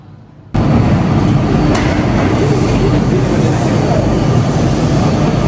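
Inside the Skytrain that links terminals at Singapore airport, a steady rolling rumble sets in suddenly and then holds at an even loudness, with faint rattles in the car.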